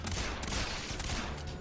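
Rapid gunfire rattles continuously as computers are shot up in the 007 Legends video game, with loud, dense bursts of shots.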